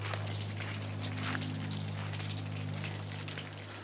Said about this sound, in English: I was just starting to weed and it started to rain kind of hard.